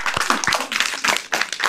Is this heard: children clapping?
yes